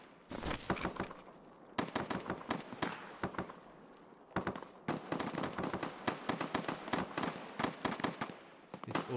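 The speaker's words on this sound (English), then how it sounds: "It's all shooting over there" Rapid bursts of automatic gunfire in the shooter game SPT Tarkov, dense volleys of loud shots cracking in clusters with brief pauses, continuing steadily throughout with no talk.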